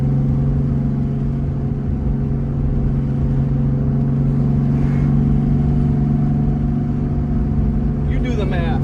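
A car fitted with a new straight pipe exhaust drones with a steady, loud engine rumble throughout while driving, with a brief rising rev near the end, and a person talking over it.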